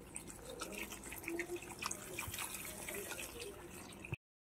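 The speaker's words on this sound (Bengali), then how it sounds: "পরিমাণ মতন জল দিয়ে দিচ্ছি।" Water is poured into a pot of Bengali shukto curry, making a soft, steady splashing trickle for about four seconds that then stops abruptly.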